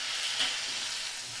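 Cauliflower pieces, cut from a whole head, fry over a medium flame in a pan, giving a steady soft sizzle throughout, fairly quiet with a slight brighter crackle partway through.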